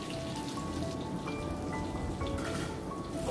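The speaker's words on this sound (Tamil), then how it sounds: "இப்போ வெங்காயத்தையும் சேர்த்து நல்லா எண்ணெயில் வதக்கிக்கலாம்." Onions with garlic sauté in hot oil for a vegetarian Malaysian kam heong dish. A dense, even crackling sizzle holds steady throughout, close and moderately quiet, with no voices.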